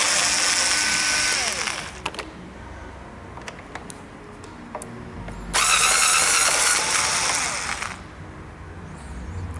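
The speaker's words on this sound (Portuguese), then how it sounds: "Agora para tirar essa pequena carenagem aqui, são apenas 4 parafusos." Screws being loosened on the front fairing of a Citycom 300i scooter with a power driver, two loud whirring bursts separated by a quieter stretch of faint clicks and handling noise.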